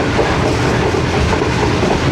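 The Shalimar Express passenger train runs at close to 100 km/h in summer heat, with a loud, continuous rumble of wheels on rails and a faint clickety-clack beneath it.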